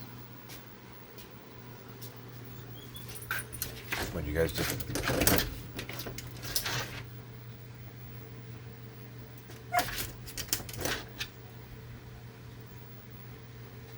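A dog barks in a few sharp bursts indoors, clustered in two groups with quiet gaps between, while people talk nearby over a steady appliance hum.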